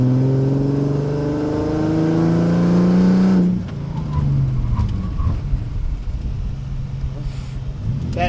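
A Mercedes SLK32 AMG fitted with upgraded lightweight brakes accelerates hard with a rising engine note, then brakes hard and the engine drops away, leaving road noise and faint clicks.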